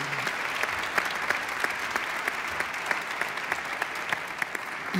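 An audience at a gathering honoring a guest's wife claps steadily, a dense, even patter of many hands with no voices over it.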